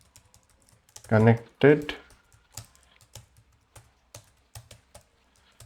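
Scattered keystrokes tap on a computer keyboard while code is typed, sparse and close, with a short burst of speech early on.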